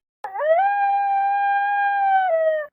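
A single long, tonal howl from a dog-like animal rises quickly, holds steady and clear for about two seconds, dips slightly near the end, then stops, heard alone against silence.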